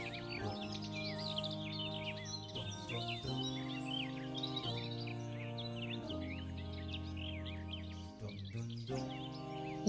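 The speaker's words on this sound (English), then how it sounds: "They're filled with weird birds like parrots and parakeets" Exotic birds such as parrots and parakeets call from trees around the Suleymaniye Mosque, a steady busy layer of chirps and tweets over a low sustained background hum, with no talk.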